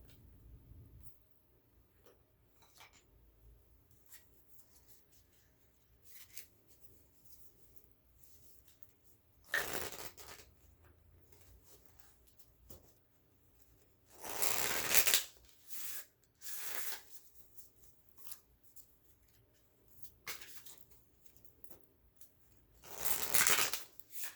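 Oracle cards are shuffled by hand in several bursts of riffling and sliding. Between the bursts come quieter handling sounds and soft ticks, all close-up with no talking.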